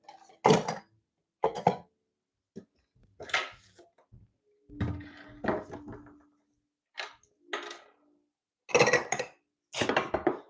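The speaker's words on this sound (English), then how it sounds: "y'all are just hearing the clinking, clanking of candles" Candles clink and clank together as they are handled and set down indoors, a series of sharp glassy knocks and rattles in separate bursts with quiet gaps between.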